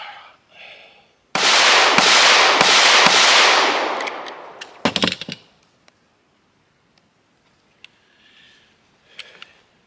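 Rapid close gunshots from a Canik Mete MC9 pistol firing Aguila ammunition: four or five loud sharp reports in quick succession, then a shorter burst of shots, followed by faint clicks and handling noises.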